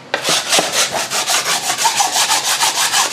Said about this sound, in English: Just take your rasp,